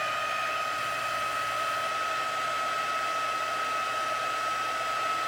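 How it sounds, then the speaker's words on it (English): Heat gun running continuously, a loud steady blowing roar with a constant high whine and no pauses. "And this is just my heat gun"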